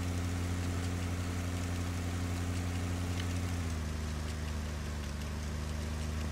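A low, steady farm vehicle engine idle rumbles continuously in the video game Pure Farming 2018, its pitch dropping slightly partway through as the revs settle, with no talking.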